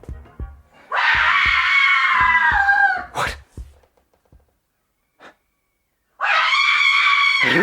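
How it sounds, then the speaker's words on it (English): A woman screams in a long, high, anguished wail, then falls silent amid faint knocks and breaths before a second loud scream rises; a stage drama of Frankenstein. "Did you hear a scream?"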